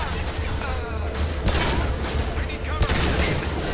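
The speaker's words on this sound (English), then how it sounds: "taking heavy fire" Heavy gunfire in the Mass Effect 2 video game, with dense bursts and sharp impacts filling a steady, loud combat din, while a player's voice talks over it.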